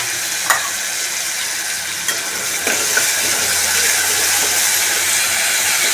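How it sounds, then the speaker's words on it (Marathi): Ground masala paste for aamti is sautéed in oil in a pan, producing a loud, steady frying hiss with a few faint stirring knocks early on; no talking. "ते चांगलं परतून घ्या व्यवस्थित."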